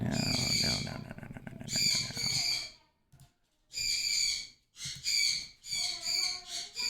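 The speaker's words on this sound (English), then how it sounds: "Oh man, that bird." A bird calls loudly outside in repeated bursts of high, whistling cries with brief gaps, close and prominent, with low rumbling background noise and no speech.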